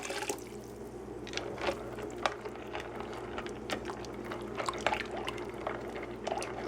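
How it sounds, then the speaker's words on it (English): Boiling water is poured into a mixture of dehydrated potatoes, cheese and milk, making a steady, soft liquid splashing with small scattered clinks, at moderate volume and with no speech. "And add 2 cups boiling water."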